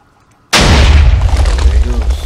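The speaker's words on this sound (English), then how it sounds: "And then the block gets powered, powers the TNT. And that's what blows it up." TNT in the video game Minecraft blows up: sudden loud boom after near silence, followed by a long rumbling decay of debris.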